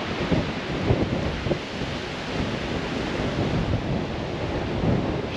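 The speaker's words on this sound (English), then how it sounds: "It is so ridiculously windy out there." Strong wind roars outdoors, a dense, continuous rushing with gusty swells, loud and close to the microphone.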